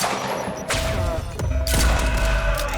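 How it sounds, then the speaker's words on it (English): Gunfire in the video game Quantum Break: several loud, sharp shots and booming impacts in quick succession, with a lingering rumble between blasts and no talk. "He's got a gun! Open fire!"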